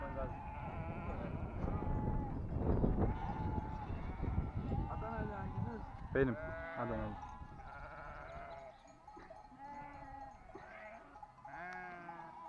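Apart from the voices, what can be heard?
mixed flock of sheep and goats bleating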